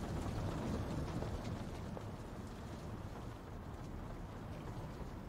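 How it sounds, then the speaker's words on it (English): Rain falls in a Chilla's Art horror game, a steady dense hiss of drops with a soft low rumble underneath, constant and unbroken. "Raining."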